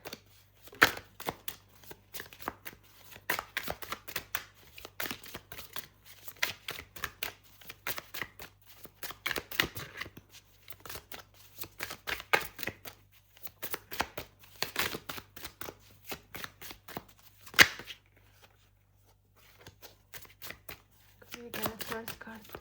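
A stack of tarot cards shuffled by hand: repeated soft riffling and slapping bursts at irregular intervals, fairly quiet and close, with a steady low hum underneath.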